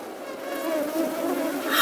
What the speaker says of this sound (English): out of nowhere came a battalion of mosquitoes with a humming roar.